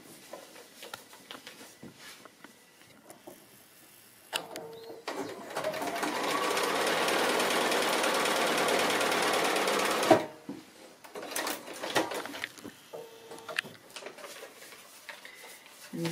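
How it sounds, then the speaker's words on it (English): Sewing machine stitching a line through fabric on a paper-foundation-pieced quilt block, one steady whirring run of about six seconds, close, amid quiet handling noises. "I can go to the sewing machine and I can stitch that line"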